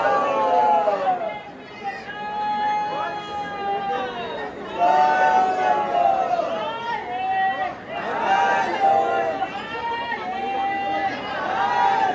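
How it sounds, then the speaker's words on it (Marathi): Crowd chatter from many people gathered during a Sunday ride toward Lonavala, with steady overlapping voices close by and at mid distance and no single sound standing out. "आजची गर्दी"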